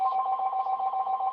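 A mobile phone rings with a steady, sustained electronic tone, fairly quiet and continuous, with no talk over it.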